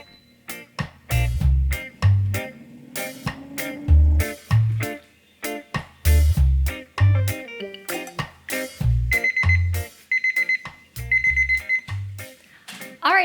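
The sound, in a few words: 10-minute kitchen timer going off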